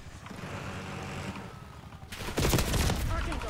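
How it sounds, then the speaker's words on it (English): Rapid automatic gunfire in the Call of Duty: Black Ops 6 video game: a dense, loud burst of fast shots erupts after a quieter stretch of game noise with faint talk, continuing to the end. "This guy's fucking gun shoots so fast, it's ridiculous."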